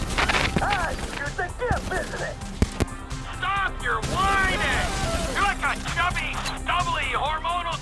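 Gunfire in the video game GTA V: bursts of shots and booms that blend into a busy, dense mix of game sound and voices.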